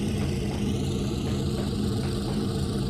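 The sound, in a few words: locomotive engine sounds from the video game Trainz 2022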